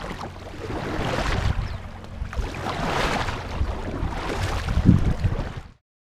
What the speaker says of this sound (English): time to paddle out